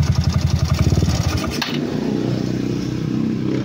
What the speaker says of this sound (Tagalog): Pero parang may tunog na ang kanyang makina.